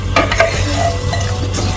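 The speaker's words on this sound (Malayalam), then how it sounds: "നമുക്ക് നന്നായിട്ട് ഇളക്കി മിക്സ് ചെയ്ത് നന്നായിട്ട് ഇളക്കി കൊടുക്കാം" Beef curry with fried onion masala stirred in a pan: close, scraping spoon strokes over a soft steady sizzle of frying, with a few quick swishes across a short stretch.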